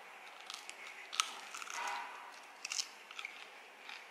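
Salt cod croquettes being bitten and chewed at close range, with a few crisp crunchy bites and soft chewing in between, fairly faint against a quiet room.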